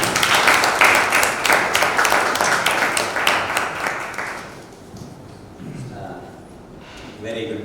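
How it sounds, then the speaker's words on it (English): Audience applause for a guest speaker at a leadership talk, dense clapping filling the first four seconds and then fading away, with a few scattered voices afterwards. "Give a big applause."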